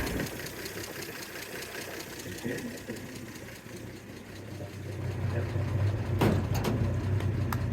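Straight-six engine of an all-original 1938 Chevy 38HC pickup with a three-speed manual running at idle, a steady low rumble that swells louder toward the end, with a few sharp clicks near the finish.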